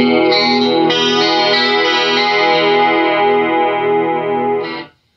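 Electric guitar run through a budget digital chorus modulation pedal at center settings, a sustained chord with a gently swirling shimmer, loud and close, ringing alone before cutting off near the end.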